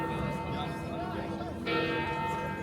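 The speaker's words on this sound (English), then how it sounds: "Goes the bells." Church bells ringing at St. Peter's Square, steady tolling tones sustained through the clip with crowd murmur and some voices underneath, a brighter layer entering partway through.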